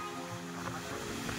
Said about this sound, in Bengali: এই যে এতটা ঢেউ